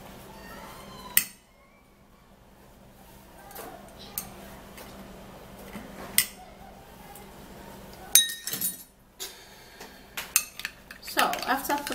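Spoon stirring an organic honey mixture in a glass, giving sparse, bright clinks and taps against the glass over a quiet background, with a quicker cluster of clinking near the end.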